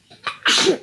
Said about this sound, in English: That was not the sneeze I did before.